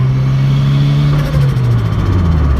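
A big-turbo LS-powered Mustang pulls away, its deep engine drone rising steadily in pitch as it accelerates, heard loud from inside the car with no talking.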